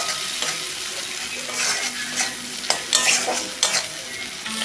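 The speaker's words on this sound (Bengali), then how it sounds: "এবার মশলাটাকে ভালো করে কষে নেব।" Spice paste of ginger, garlic, chilli powder, turmeric, salt and coriander powder sizzles loudly in hot oil with onion, with repeated scraping stir strokes of a spoon against the pan and a continuous frying hiss.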